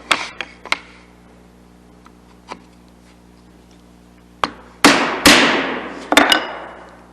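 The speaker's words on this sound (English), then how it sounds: "So as I'm chiseling" Hand chisel strikes on wood while cutting dovetail tails, a few light taps followed by several sharp, ringing blows with short decays, close and loud.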